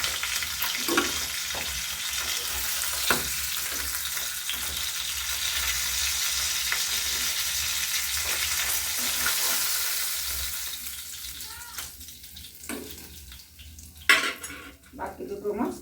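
Spice paste of chilli, ginger, garlic and tomato frying in a pan, a steady close sizzle with stirring and utensil scrapes that eases off toward the end with a few sharp clinks.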